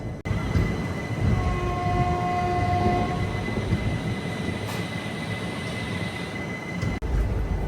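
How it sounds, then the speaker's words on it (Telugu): The Amaravathi Express rolls out of Narsapur station, a steady loud rumble of wheels and carriages heard from on board, with faint whistle-like tones drifting in early on. "మన బండి బయలుదేరింది నర్సాపూర్ నుంచి"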